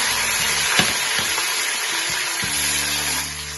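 Curry leaves, mint, coriander and green chillies sizzle steadily in hot oil in a pan while jeera rice is being made, a close, even frying hiss with faint stirring clicks.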